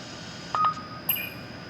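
A UTS deck unit sends an acoustic ranging pulse in open air: two short, high electronic beeps about half a second apart over faint steady background hiss.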